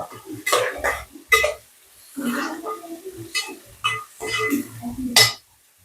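Chicken curry with onion being mixed in a pot over a high flame, a spoon scraping and clattering against the metal in several bursts with short pauses between them.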